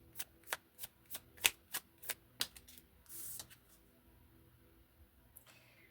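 Tarot cards are handled with a run of about ten crisp, evenly spaced taps and flicks, then a short riffling burst and a few faint slides, close and quiet in a still room.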